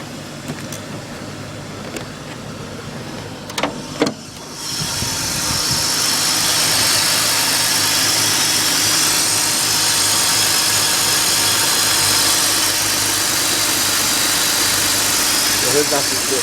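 A BMW 528i engine idles on a cold start, heard up close under the hood as a loud, steady broadband whir with a constant low hum, following a few clicks and knocks in the quieter opening seconds.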